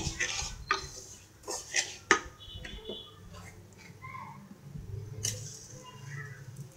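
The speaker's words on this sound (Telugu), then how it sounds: "రెండింటిని బాగా కలిసేలా కలుపుకోవాలి." Semolina and sugar stirred together in a pan with a utensil, giving scattered scraping and clinking taps at an uneven pace, close and fairly soft, with some faint background noise.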